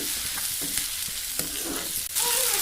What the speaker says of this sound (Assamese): এইখিনি প্ৰথমতে আদা নহৰুখিনি এনেকৈ তেল অকণমান দি সিজাই লৈছে